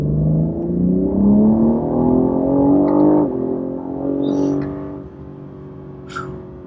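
BMW G8x Competition fitted with a RaceChip GTS Black tune pulls hard in race mode, engine note climbing loud and steady before a quick shift, then settling lower, with a gasp and a faint breathy sound near the end.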